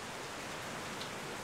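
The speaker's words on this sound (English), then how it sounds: "it started raining last night," Gentle rain falls steadily during Hurricane Harvey, a soft, even hiss of drops with no talking and no distinct splashes.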